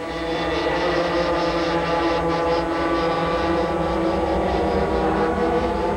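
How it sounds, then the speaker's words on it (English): An Emmett sprint kart with a TKM piston-port engine races at a 1989 championship on an Adams kart track. Its engine gives a steady, loud, buzzing drone that holds through the whole stretch without a break. "Lisa driving an Emmett kart with a TKM motor"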